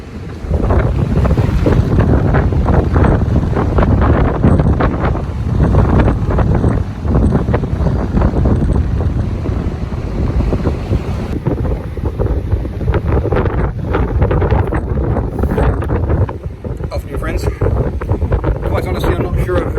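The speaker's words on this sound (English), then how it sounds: "I'm not sure about how much of this you're going to hear because it is very blustery here." Strong gusty wind batters the microphone on an exposed southern coastal point at Hermanus, South Africa, a loud continuous roar with swelling gusts and surf-like rumble throughout, no clear talk over it.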